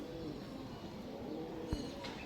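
Small Joker Teddy bloodline breeding pigeons coo softly in a loft, low faint murmuring calls under a quiet background, with a brief knock near the end.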